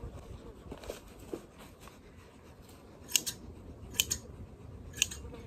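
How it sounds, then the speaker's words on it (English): Hand shears trim the belly fleece of a sheep, with soft rustling snips early on, then three crisp, close metallic clips spaced about a second apart. "Now I'm just doing this with hand shears."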